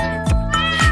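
Cartoon cats in a Spanish-language children's song meow twice in quick succession, close and loud, with musical tones underneath.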